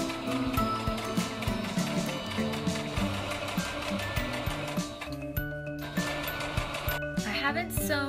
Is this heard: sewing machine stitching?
yes